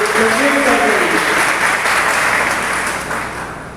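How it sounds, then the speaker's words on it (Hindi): A large audience at a direct-selling leaders' event claps loudly and continuously in a big hall, the dense applause fading slightly near the end; a voice briefly sounds underneath at the start. "मैं चाहूंगा एक बार जोरदार ताली हमारे महागुरु संजीव सर के लिए"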